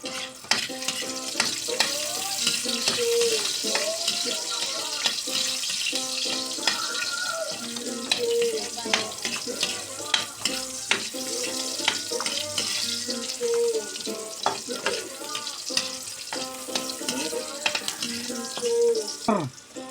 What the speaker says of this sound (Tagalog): Igisa na natin.